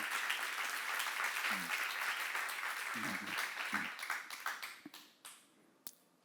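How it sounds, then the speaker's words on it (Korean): Loud, sustained applause from a large church seminar crowd that thins out near the end into a few scattered, separate claps. "박수로 하세요."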